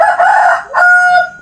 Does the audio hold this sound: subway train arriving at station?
no